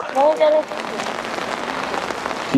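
Rain falls steadily on a street in Korea, a dense even hiss throughout with brief voices near the start.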